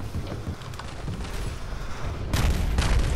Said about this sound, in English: Mortars are hitting again.